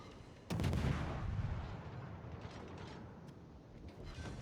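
A single loud, booming naval gun blast in the video game World of Warships, rolling out into a long rumbling decay, followed by fainter distant thuds.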